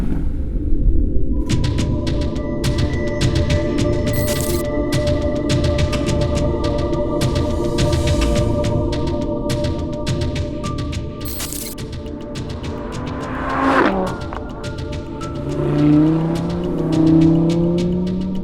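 A car engine idles with a low exhaust gurgle and rumble, steady and close. A single sharp rev swells midway and eases off, then the motor settles back to a burbling idle.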